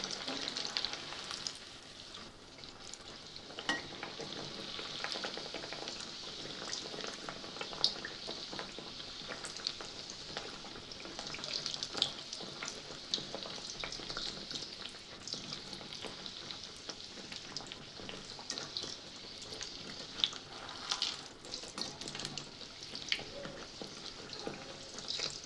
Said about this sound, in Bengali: এই একই রকমভাবে আমি বাকিগুলোকে ভেজে নিব